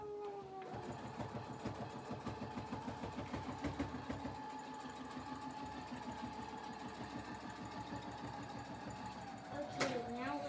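A sewing machine runs steadily, stitching a pillowcase in a children's sewing lesson, with a fast, even mechanical whir held close for the whole stretch and a brief pause near the end, under faint talk.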